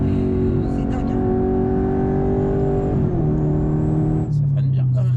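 An Audi R8 bi-turbo with over 750 horsepower accelerates hard, heard from inside the car as a loud, steady engine drone that climbs in pitch and drops briefly at a gear change before pulling again.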